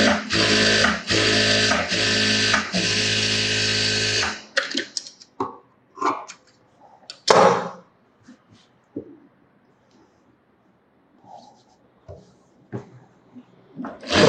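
A tailoring sewing machine runs a rough stitch on sleeveless blouse fabric in a loud, rhythmic burst of about four seconds, followed by scattered handling knocks and clicks in a quiet room.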